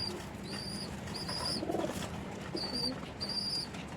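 Pigeons coo softly in low, rolling bursts at close range, with sharper chirps from other birds repeating in the background.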